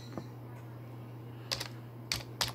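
Several soft keystrokes on a computer keyboard as a word is typed into a document, a lone tap followed by a short cluster of clicks, faint and close over a steady low hum.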